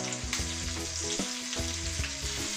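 Quails and cumin seeds fry in a hot pan with a steady, loud sizzle close up, while rhythmic stirring or scraping knocks sound through it.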